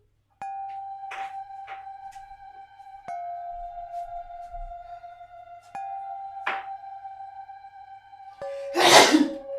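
A character sneezes in the Zero Escape: Virtue's Last Reward video game, one loud sharp burst near the end following several chime-like tones and short soft noises in a quiet game scene.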